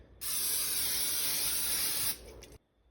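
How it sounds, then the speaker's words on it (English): A steady, close hiss of nonstick cooking spray from an aerosol can coating a pan lasts about two seconds, then cuts off with a short sputter. "You also want to coat the pan with some nonstick spray."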